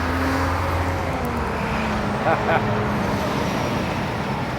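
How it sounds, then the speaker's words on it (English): A heavy vehicle rumbles past nearby, a steady low roar of engine and road noise filling the clip with a brief rise midway. "that's a noisy truck"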